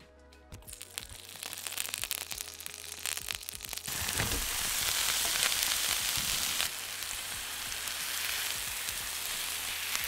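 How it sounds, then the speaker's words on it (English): Food sizzles and crackles in a hot pan, starting with scattered pops and then swelling into a steady, loud hissing fry. "I got a little bit of sizzle at the beginning"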